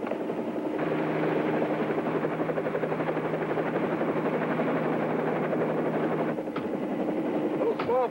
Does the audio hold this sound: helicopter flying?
yes